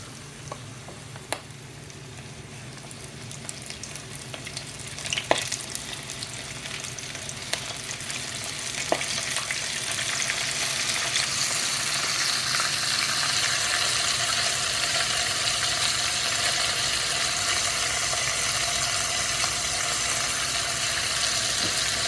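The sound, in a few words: shrimp frying in oil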